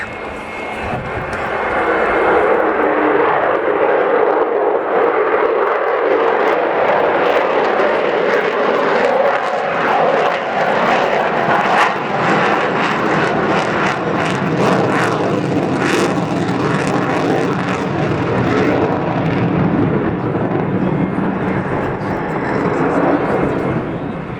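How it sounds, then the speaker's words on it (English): Frecce Tricolori aerobatic jets sit ready for a formation takeoff at an air show, their engines producing a loud, steady roar that holds throughout, close by and continuous. "Aircrafts behind ready for the formation takeoff of Frecce Tricolori."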